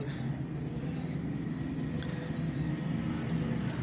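Teddy pigeons, a flying breed, flap their wings in a loft with rapid repeated wing-beat flutters over a low steady background hum and no talk.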